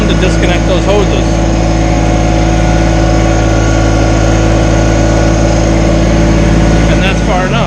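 A Kubota BX compact tractor with a backhoe attachment creeps forward, its engine a loud, close, steady drone with a rich hum that holds level before easing at the end.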